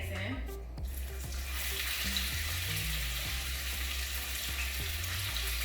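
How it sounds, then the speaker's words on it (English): NY strip steaks sizzle in a hot pan, a steady loud hiss and crackle filling the whole stretch, with faint low clunks underneath. "I'm gonna go ahead and put the steaks in."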